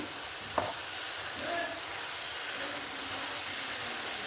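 Okra frying with onions in a pan, a steady close sizzle with occasional stirring scrapes and a single sharp clink near the start, no talking.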